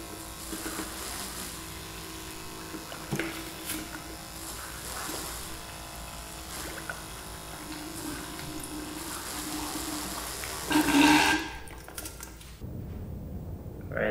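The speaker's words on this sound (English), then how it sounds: "so I'm going to run this pump and then see what my Arduino program outputs" A small pump moving water through a robotic bartender rig built with flow meters, running as a steady buzzing whir with rattly clicks and a brief louder surge near the end before cutting off abruptly.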